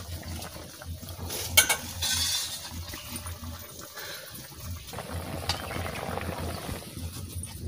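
Spices tempering in mustard oil for a potato and paneer curry, a continuous crackling sizzle with stirring scrapes and a few sharper spits, moderately close.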